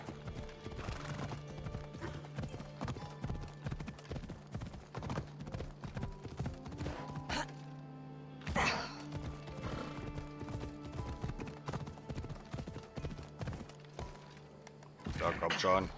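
Horse hooves clip-clop steadily on the ground in Assassin's Creed Odyssey, a close, rhythmic gallop with a neigh, running under someone talking.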